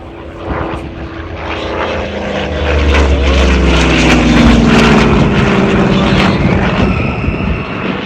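A WWII-era propeller airplane makes a low pass at an airshow, its loud, steady piston-engine drone building from about two seconds, peaking mid-clip and easing slightly as it passes close by, with no talk over it.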